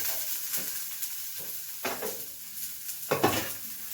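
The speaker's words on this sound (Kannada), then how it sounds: "ಈಗ ನಾನು ಮೆಣಸಿನ್ಕಾಯಿ ಹಾಕ್ಕೊತಿದ್ದೀನಿ" Green chillies dropped into hot oil in a pan while cooking pulao, giving a steady close sizzle with several louder bursts of spitting and stirring, no voices.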